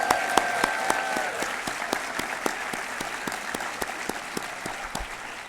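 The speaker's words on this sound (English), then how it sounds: "Let's give her a round of applause." Audience applause at a university address, a steady round of clapping from the crowd punctuated by a few sharp, distinct claps close by, gradually easing off.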